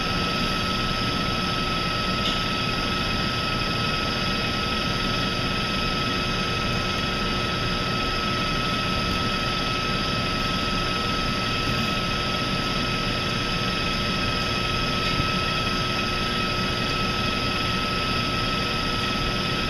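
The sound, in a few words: mixer whipping mousse ingredients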